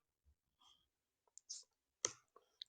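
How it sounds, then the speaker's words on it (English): A few scattered keystrokes click on a computer keyboard, sparse and quiet, with silence between the taps. "So I will type"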